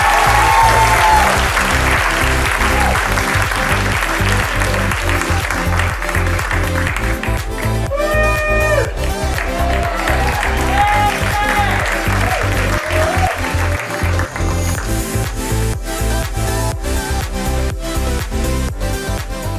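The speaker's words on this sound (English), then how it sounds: "Please help me give a round of applause for Jan Adams." An audience at an anniversary celebration and Hall of Fame honour gives sustained, loud applause that fills the whole stretch, with some cheering mixed in and music playing under the clapping.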